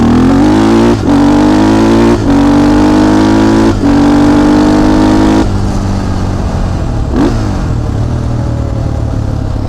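Honda 400ex ATV riding on pavement with a loud, steady engine drone, revs rising through gears with brief dips at each shift, then settling into a lower, rougher idle-like tone with a clattering, shaking undertone.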